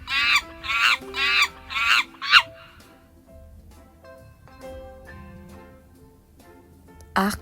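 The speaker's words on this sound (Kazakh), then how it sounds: "Маймыл." A monkey gives a burst of five loud, shrill, rapid screeching calls, then falls quiet under soft background music before one last short cry.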